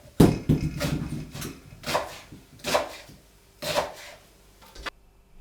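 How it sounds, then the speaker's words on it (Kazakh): A knife chops onions into small squares on a board for manti, giving about five sharp, separate knocks spaced roughly a second apart at close range, with no talking. "Пиязымызды 4 бұрыштап тураймыз."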